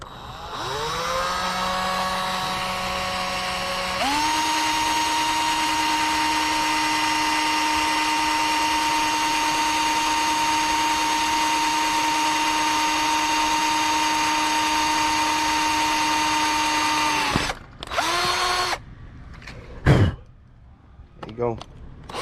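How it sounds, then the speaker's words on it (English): A power drill runs a pilot hole while a thermostat and steam-line adapter are fitted, whining steadily up close and stepping up in pitch partway through before stopping, followed by a few short clunks and handling noises. "I got my drill. I'm gonna do a pilot drill first, pilot hole"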